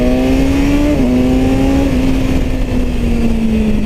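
A 2017 BMW S1000RR motorcycle engine roars loudly and close, holding a high steady whine that steps down in pitch at gear changes and then keeps pulling hard throughout.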